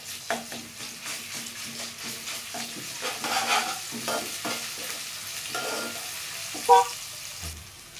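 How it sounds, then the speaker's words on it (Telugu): Curry leaves and ginger paste frying in a pan while being stirred, with a steady close sizzle broken by repeated scraping strokes of a spoon against the pan. "సో కొంచెం ఆ పచ్చివాసన పోయేంత వరకు నీట్గా కలిపేసుకుందాము."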